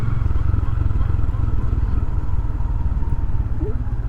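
Honda Grom motorcycle engine idling, a steady low, throbbing, slightly clattery putter that holds close and even throughout with no revving.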